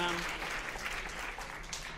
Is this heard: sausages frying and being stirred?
no